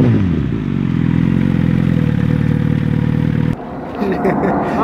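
A motorcycle engine drones steadily and loudly nearby, then cuts off abruptly near the end, leaving clattering and scraping sounds behind.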